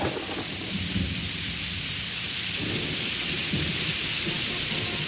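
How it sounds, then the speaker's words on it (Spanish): Heavy steady rain pours alongside deep rolling thunder rumbles, a loud continuous storm with no voices. "Dos semanas seguidas de lluvia."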